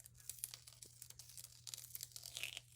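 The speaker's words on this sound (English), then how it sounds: "let's peel off the tape here." Tape is peeled off paper beside oil pastel artwork, a close, ragged tearing rasp that runs in quick stuttering bursts for a few seconds over a low steady hum.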